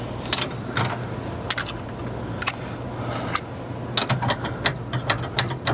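Ratchet wrench loosening a bolt on a Montana fifth-wheel trailer, with rapid bursts of close metallic clicks repeating in short runs.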